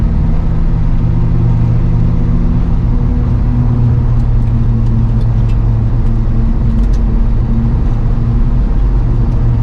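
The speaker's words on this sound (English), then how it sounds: "I can't even hold 5th gear at all. It is just losing speed." A Zuk car engine drones steadily at low pitch, struggling to hold speed in snow on new DOT tires, a loud continuous hum inside the cab with no talking.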